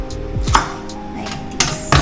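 Vegetables for pork sinigang being cut with a knife on a board: a few sharp, close chops and knocks spaced irregularly across two seconds, fairly loud against a quiet kitchen background.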